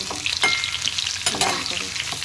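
Potatoes with cashews and raisins fry and sizzle in a pan for a vegetarian potato curry. A steady hiss is broken by a few scraping stirs up close.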